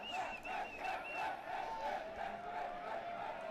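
Crowd of local fans cheering and whooping at a U-23 men's softball World Cup game between Mexico and Australia, a steady, dense roar with scattered shouts and whistles throughout.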